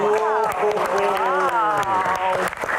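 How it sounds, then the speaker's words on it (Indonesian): Audience applause at a crown pageant Q&A show, broadband clapping continuing under loud cheering voices and shouts that rise and fall throughout. "Tepuk tangan."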